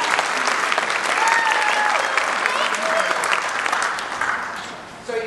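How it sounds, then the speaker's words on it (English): A children's theatre audience in Kalispell, Montana applauds for Tinkerbell during a Peter and Wendy performance, with loud sustained clapping and a few voices and whistles mixed in before it fades. "If you just believe in Tinkerbell, clap your hands."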